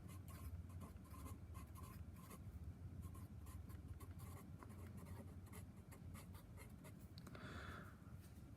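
Pen or pencil scratching steadily across paper while a precalculus problem is worked out by hand, a close, continuous stream of short strokes and taps with no talking.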